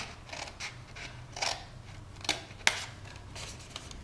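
Scissors snip through paper to cut tabs for an Easter gift box, a few sharp separate cuts spaced irregularly, close and clear over a low hum.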